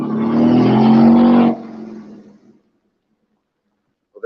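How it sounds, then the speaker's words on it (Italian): At a car and motorbike rally, a car engine roars loudly and steadily for about a second and a half, then cuts off and dies away, leaving near silence and a faint distant sound at the end. "potete sentire il rombo del motore"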